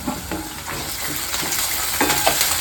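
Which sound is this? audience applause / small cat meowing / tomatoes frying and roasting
tomatoes frying and roasting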